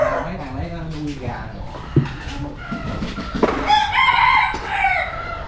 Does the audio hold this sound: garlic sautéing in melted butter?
no